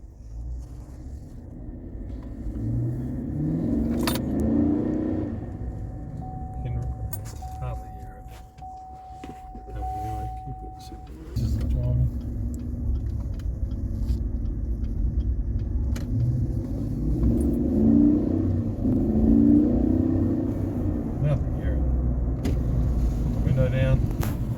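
A Chevrolet Silverado 1500 V8 fitted with a full Walkinshaw exhaust drives along with a low, muted rumble that swells and eases as it moves, while people talk over it.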